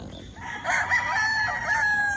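A gamecock crows once, loud and close, a drawn-out strained call lasting over a second against a faint outdoor background.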